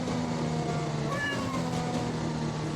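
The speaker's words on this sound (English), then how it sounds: "he's meowing at me right now" A cat meows once, faintly, in the middle, under a steady loud drone of racing-game engine noise, heard during a Belgium racing league stream.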